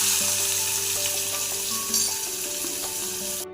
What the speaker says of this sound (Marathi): आता त्याच्यामध्ये आपण कांदा परतून घेऊ।